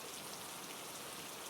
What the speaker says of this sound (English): rain began to pelt down in sheets